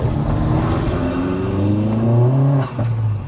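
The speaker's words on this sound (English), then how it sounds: "that Remus exhaust, it sounds wicked when sounds amazing" A self-built 310 bhp Vauxhall Astra VXR fitted with a Remus exhaust revs close by, the engine note climbing and holding in loud, rising sweeps before briefly dipping.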